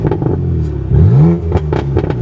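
BMW F80 M3 with a BOOTMOD3 tune, burbling through its exhaust in sport mode with traction control off: a deep idle rumble swells into a short rising rev, then settles back into sporadic crackling pops, recorded up close.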